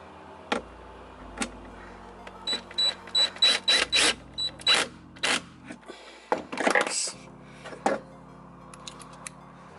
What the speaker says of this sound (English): I'm gonna go around to this side and screw it in